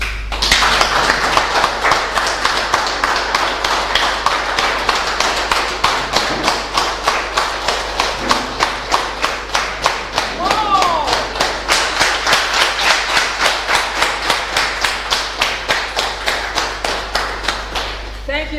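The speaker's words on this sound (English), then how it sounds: "can we give that clap to Father, please?" A meeting audience claps for a priest in unison, loud, evenly spaced rhythmic claps repeating steadily for a long stretch, close and dominant, with faint voices underneath.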